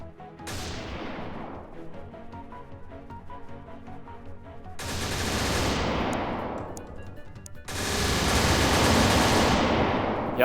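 Aircraft cannon fire from the air-battle strategy game Xenonauts: three loud, sustained bursts of rapid gunfire, the first short, then two long hammering volleys, with brief pauses between them and no talking.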